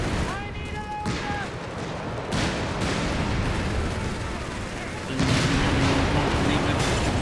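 Two 17 pounder anti-tank guns fire amid a Company of Heroes 3 battle, heavy booming blasts and rolling explosions over a constant roar of combat, with a sharp louder burst near the end.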